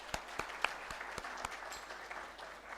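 Scattered, faint applause from a seminar audience at an international disaster risk financing event, with a few sharp individual claps standing out over a thin wash of clapping in a room.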